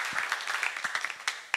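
Short burst of applause from a small group, probably children, greeting a child who answered in French at a family or community gathering; hand claps are dense and fairly close, with a few louder individual claps standing out.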